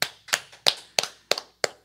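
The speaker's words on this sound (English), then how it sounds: "Just get a hand clap one time." Sharp, separate hand claps during a podcast, six distinct cracks spaced evenly about a third of a second apart, close and dry with quick decay.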